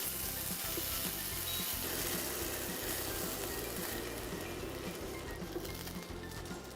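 Quinoa fried rice sizzles in a pan with a steady, even crackle and a low, continuous background hum, moderately quiet and unbroken, with no talking.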